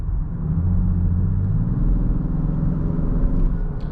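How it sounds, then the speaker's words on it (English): Steady low engine drone from a 2024 Land Rover Defender 130 under way, with a faint turbo whistle riding over the road rumble; loud, close and continuous, with no talk. "Hear a little bit of some turbo noise, kind of cool"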